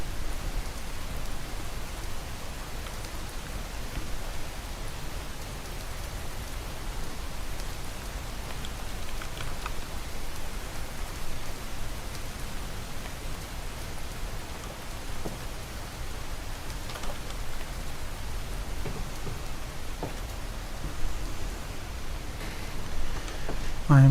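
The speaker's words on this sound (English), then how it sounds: "The problem with rain is it makes it harder to tell when it's going dark," Steady rain falls in the Minecraft video game, a continuous soft hiss of drops on surfaces that runs evenly at a moderate level throughout, with no talking heard.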